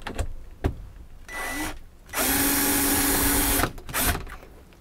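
Power drill driving screws on a low torque setting while installing an RV air conditioner silencer, heard as a couple of short whirring bursts followed by one long steady drive run and a final brief burst, close and fairly loud.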